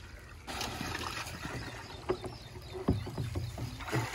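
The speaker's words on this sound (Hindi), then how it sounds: "इसको ड्रम को पानी से भरते हैं अच्छे तरीके से" Water splashes and gurgles into a drum being filled for a urea fertilizer mix. Uneven pours and sloshing come and go, with a few sharper splashes and knocks close by.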